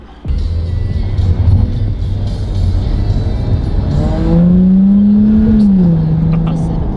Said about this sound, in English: We got the F-Type. We are in a sports car for the next part